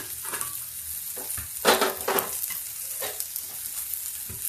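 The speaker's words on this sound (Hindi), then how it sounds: "अब इसमें हम डाल देते हैं इसमें प्याज। प्याज भी थोड़ा भून जाए, ज़्यादा नहीं भूनेंगे।" Onions frying and being stirred in a pan while cooking moong dal with bottle gourd, steady sizzle with scraping stir strokes, one louder burst midway.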